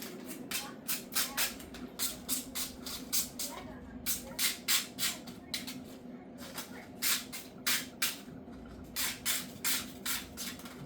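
Rapid, regular short hissing sprays of cooking oil onto paper muffin liners repeat in a steady rhythm, like an aerosol being pumped again and again over a low background hum.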